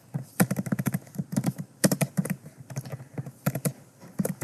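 Code being typed on a computer keyboard during a JavaScript forms lesson: quick bursts of close, crisp key clicks in uneven clusters with brief pauses between them, heard alone.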